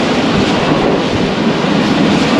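Karachi Express passing through Pattoki railway station at speed, heard as a continuous loud rumble and rattle of the moving train from on board.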